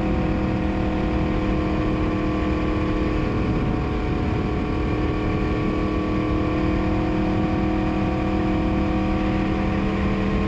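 Yamaha MT-10 motorcycle engine and exhaust running loud and steady throughout, with a dense, continuous mechanical drone and no talking.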